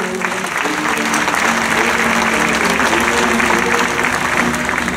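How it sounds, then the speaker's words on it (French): Sustained, loud applause from an audience at a live event honoring Odile, a dancer and speaker; many hands clap in a thick, even wash that holds steady throughout without a break. "Donc on applaudit Odile, s'il vous plaît"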